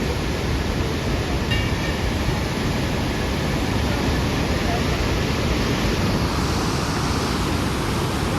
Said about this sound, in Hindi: और ये है सरस्वती नदी, बहुत भयानक शोर है।